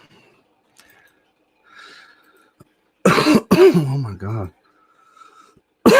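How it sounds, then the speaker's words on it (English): A person coughs in one short, harsh burst at close range, followed by a brief exclamation from the same speaker, with quiet breathing and small noises around it. "I'm coughing, y'all."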